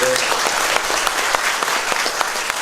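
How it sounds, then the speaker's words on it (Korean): A theatre audience claps steadily and loudly at a curtain call, dense applause filling the room without a break. "여러분들 박수 한 번만 박수 한번."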